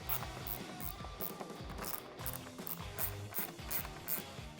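Screws are driven into speaker pods on a Harley-Davidson Street Glide inner fairing, giving a series of quiet, close ratcheting clicks in quick irregular bursts.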